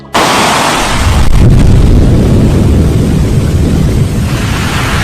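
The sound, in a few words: loud volcanic explosion sound effect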